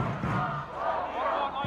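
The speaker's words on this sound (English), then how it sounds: "You can hear chants of Kuopio from the home crowd trying to will the Steelers to the finish here." A home crowd chants rhythmically in the stands at an American football game between the Kuopio Steelers and Porvoo Butchers, a loud, massed roar rising and falling across the brief stretch.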